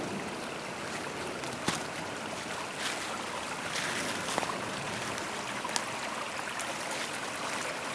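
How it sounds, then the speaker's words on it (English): Brookside Creek flows through a quiet nature park, a soft, continuous wash of running water heard from nearby, faint and even throughout, with no voices. "I was looking for this right here, which is Brookside Creek"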